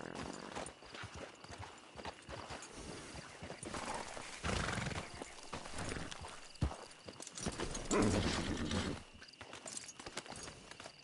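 Horse hooves clip-clop at a walking pace in the video game Red Dead Online, with a loud neigh partway through, the snorts and steps close and clear amid faint background sounds.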